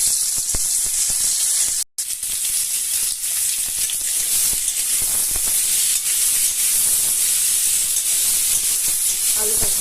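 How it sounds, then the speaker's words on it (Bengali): Boiled potatoes frying in hot oil in a wok for Bengali aloo dum give a loud, close, continuous hissing sizzle, broken once by a brief cut, with faint clinks underneath. "তেলটা গরম হয়ে গেছে, এবার আমি আলুটা ভেজে নিচ্ছি।"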